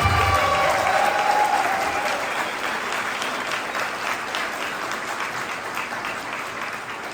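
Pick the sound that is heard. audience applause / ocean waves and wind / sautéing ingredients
audience applause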